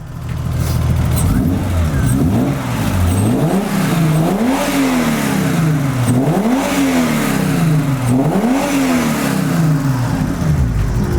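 A BMW Baur convertible's engine revs repeatedly, pitch rising and falling in four or five strong surges over a steady loud idle, close by with no talking.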